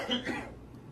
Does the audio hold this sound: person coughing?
yes